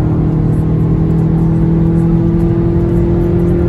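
A Volkswagen Golf 7 GTI with a 230 hp engine pulling hard from inside the cabin, a steady loud droning engine note with a strong tonal hum and road noise, no talk.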